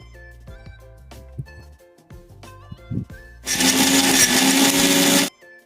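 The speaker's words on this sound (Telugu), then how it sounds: "కొంచెం జీడిపప్పు కొంచెం బాదం పప్పు ఇవి కూడా పేస్ట్ చేసేద్దామండి" A kitchen mixer grinder blends cashews and almonds into a paste, starting abruptly with a loud, steady high whirring for about two seconds before cutting off, after a few quieter clicks and knocks.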